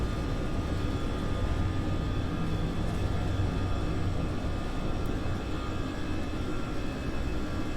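Airbus A320 jet engines roar at takeoff power during rotation in a flight simulator, with a steady, dense, continuous rumble and whine that stays constant and loud throughout, with no speech.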